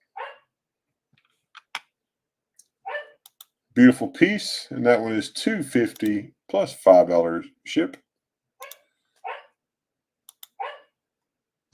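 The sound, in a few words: dog barking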